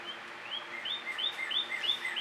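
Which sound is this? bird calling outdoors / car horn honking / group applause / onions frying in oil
bird calling outdoors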